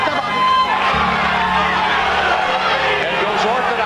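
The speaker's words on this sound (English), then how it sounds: "Crowd standing up, a lot of people here." A sellout boxing-arena crowd roars and whoops during the final round, a loud, sustained wall of cheering and shouting that swells throughout, with voices mixed into the din.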